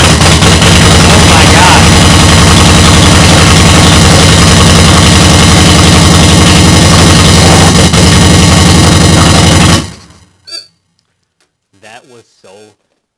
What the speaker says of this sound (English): I've never heard a Harley start that fast.